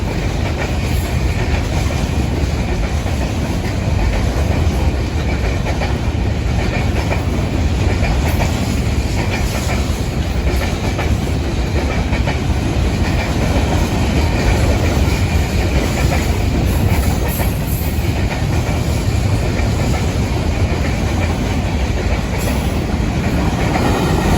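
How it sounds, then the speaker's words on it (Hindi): A passenger train passing through Ahmadpur at evening rolls by close and loud for the whole stretch, a continuous rumble with clickety-clack of wheels and occasional squeal. "दोस्तों रेलगाड़ी दे पियो सो तुसा अहमदपुर की रेलगाड़ी।"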